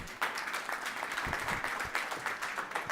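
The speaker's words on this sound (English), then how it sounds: "Please give him a round of applause." Audience at a Johannesburg startup pitch competition clapping steadily, a dense, even wash of applause from a crowded room, moderately distant.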